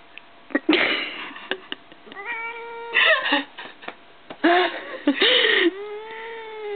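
A cat meows several times in short, rising and falling cries, interspersed with soft rustles and a few brief clicks, close and fairly loud.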